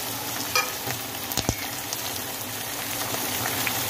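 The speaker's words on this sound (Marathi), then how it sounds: "तर असं चांगलं व्यवस्थित परतून घ्यायचं याला" Capsicum sautéing with thecha and coriander in a pan, a steady close sizzle with a few brief stir clatters and no voices.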